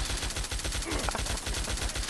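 Rapid gunfire in the video game Fallout, a fast repeated burst of shots pounding steadily and loudly from start to end.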